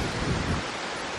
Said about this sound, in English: Look, this wind, you guys.